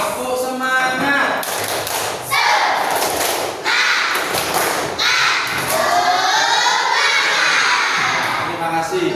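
Schoolchildren in a classroom perform a rhythmic spirit clap, sharp claps and thumps landing in bursts between loud shouted chants from the group, close and energetic throughout.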